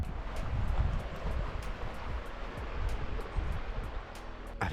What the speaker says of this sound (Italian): Solo il rumore dell'acqua che scorre all'Arco dell'Angelo.